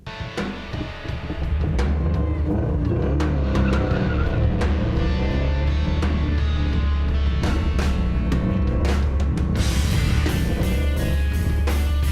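Racing car driven hard through corners in a drifting competition, with a loud continuous engine roar and bursts of tire squeal and skidding throughout, heard alone.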